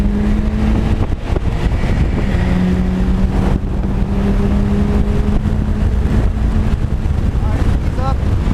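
A 2006 Mitsubishi Evo 9 MR lapping Laguna Seca, its engine droning steadily from inside the cabin with tonal shifts as the revs change, heavy wind buffeting over the top and a voice speaking intermittently.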